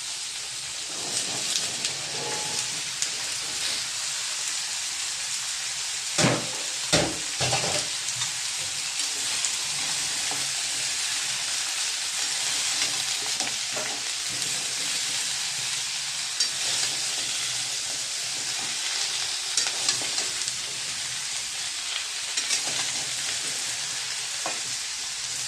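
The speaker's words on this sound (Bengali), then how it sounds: "এইবার সবজিটা অ্যাড করছি।" Vegetables tossed into a pan with prawns and fried onion give a loud, continuous sizzle, dense and rain-like, with a few sharper clatters of stirring scattered through, with no talking.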